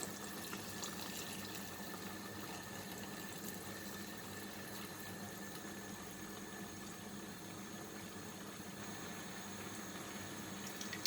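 A steady, continuous rush of water pouring into a pot without pause, even and moderately loud throughout, with no voices.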